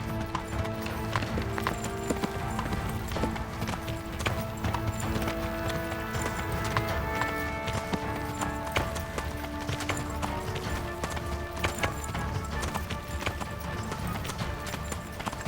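Horses gallop across a battlefield in the video game Kingdom Come: Deliverance, with a dense, continuous clip-clop of hooves throughout and occasional whinnies over the battle noise.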